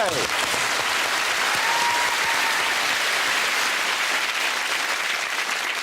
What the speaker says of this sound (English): I think they deserve a round of applause from us